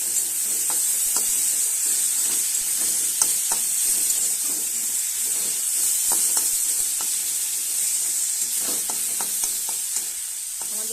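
Spices and meat masala sauté in a pan for a Bengali fish curry (macher jhal), giving a steady, close sizzle with scattered scrapes and taps of a stirring spoon throughout, no voices.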